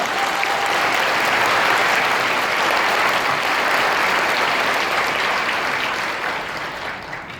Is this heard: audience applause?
yes